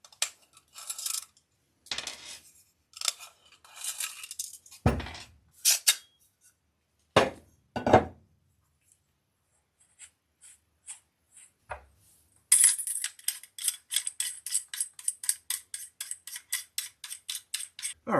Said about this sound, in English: get the barrel nut taken out of the handguard here, get that attached